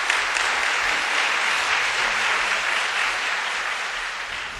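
Warm audience applause fills a hall at a church testimony program, welcoming a speaker to the stage. The clapping is steady and sustained from a large crowd, staying dense and even throughout with no voices over it.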